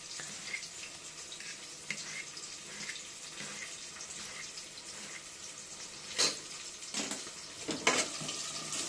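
Onions frying in a pan give a steady, fairly quiet sizzle with faint stirring scrapes, then a few louder crackling bursts near the end.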